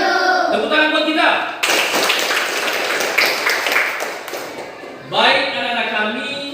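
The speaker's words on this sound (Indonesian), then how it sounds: "Tepuk tangan buat kita." A classroom of schoolchildren bursts into quick, loud group clapping for a few seconds, with a teacher talking just before and after the applause.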